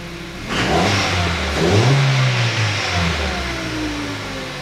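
The engine of a 2012 Hyundai Solaris, whose throttle body has not yet been relearned, revs sharply when the accelerator pedal is pressed, then settles back toward idle. It is loud and close, with no talk.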